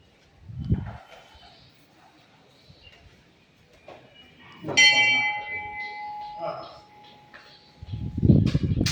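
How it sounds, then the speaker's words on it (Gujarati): A single strike on a large bell at an old royal-era temple in Patdi, Surendranagar, rings out loud and near, then hums down in a long fading tone. Brief voices are heard before and after. "વિશાળ ઘંટડી જે અમે વગાડી"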